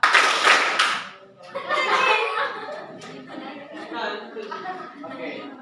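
A classroom of students joins a rhythmic clapping game with a short burst of claps, then breaks into chatter and laughter.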